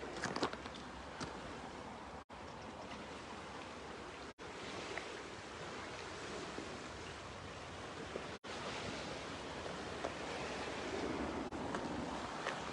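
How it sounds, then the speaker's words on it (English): Waves wash onto a shore in a steady, continuous roar of surf with some wind, faint and distant, with no voices. "I imagine you can hear the waves."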